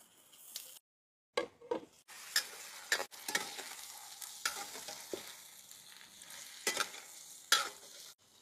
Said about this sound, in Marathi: आता आपण याच्यामध्ये चिकन फ्राय करून घेऊ।